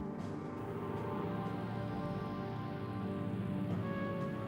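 Rain falling steadily on a hard surface, a dense, even hiss of many drops at close range that carries on without a break.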